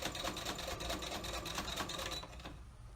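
A sewing machine top stitching a fabric face mask gives a rapid, steady mechanical chatter close by that runs for a few seconds and then stops, with no talking.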